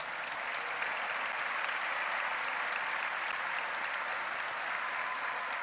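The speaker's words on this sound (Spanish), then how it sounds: "Un aplauso para Patricia." Sustained audience applause fills a book fair hall, a dense, steady clatter of many hands clapping at even loudness throughout, with no voices standing out.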